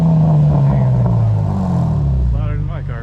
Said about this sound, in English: give it a couple of revs so you guys can hear.